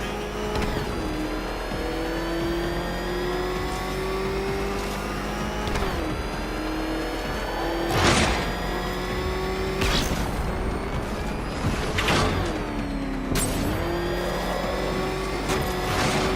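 Batmobile engine in Batman: Arkham Knight, a loud steady roar with rising and falling pitch as it accelerates and shifts, punctuated by several sharp bursts and whooshes.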